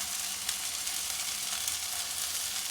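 Chicken frying in a pan gives a steady, even sizzle throughout, a dense crackling hiss without pauses or talk.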